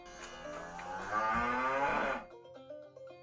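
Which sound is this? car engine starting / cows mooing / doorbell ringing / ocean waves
cows mooing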